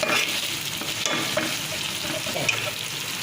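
Cumin and spices fry in hot oil in a pan while being stirred, a steady close sizzle with scraping stirs and occasional light clinks, no voices.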